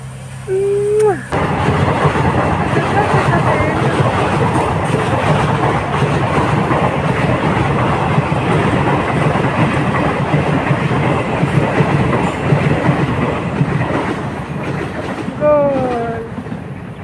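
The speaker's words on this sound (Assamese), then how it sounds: "ট্ৰেইন আহিছে বেটিক দেখাবলৈ" A train rumbles past close by for most of the clip, a steady loud roar with rhythmic clatter, and a horn sounds near the start and end.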